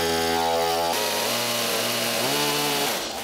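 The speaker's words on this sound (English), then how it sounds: "I mustered up the courage to make another cut with the chainsaw" A chainsaw cutting into wood runs loud and close, a harsh buzzing whine that drops and rises in pitch as the engine bogs under load and recovers.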